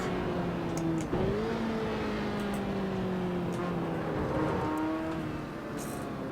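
A racing video game car engine drones and revs steadily throughout, its pitch sliding up and down as the car accelerates and shifts, loud and continuous.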